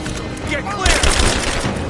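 Dense rapid gunfire in a Rise of the Tomb Raider firefight, a sharp loud volley bursting in about halfway through over steady background combat noise.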